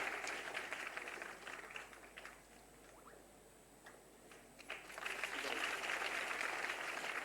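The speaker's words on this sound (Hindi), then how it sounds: "सभी के साथ ताली बजनी चाहिए।" An audience claps at a Mission Shakti women's empowerment event in Uttar Pradesh, with steady applause at the start, a quieter dip midway and louder sustained clapping toward the end, heard at a distance.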